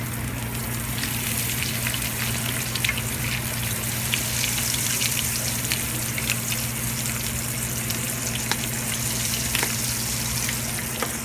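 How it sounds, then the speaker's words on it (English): Arancini rice balls sizzling and crackling in hot frying oil, a steady dense hiss with scattered sharp pops throughout, close and continuous with no talking. "You got to hear that sizzle,"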